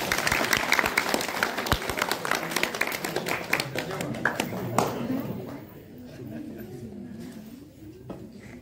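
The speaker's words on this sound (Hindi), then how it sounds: "जरा जोरदार तालियां आप बताइए" A seated audience at a formal gathering gives loud clapping for about five seconds. The applause then fades into murmuring voices and talk.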